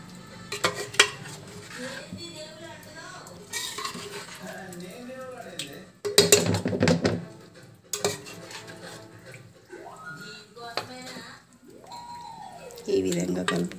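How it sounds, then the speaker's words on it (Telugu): Egg dum biryani gravy is stirred carefully in a pot, with scraping and clinking of a spoon against the metal in bursts between pauses, while someone talks throughout. "చాలా కేర్ఫుల్గా కలుపుకోవాలి. గ్రేవీ సరిపోతుందా చూసుకుంటూ కలుపుకోవాలండి."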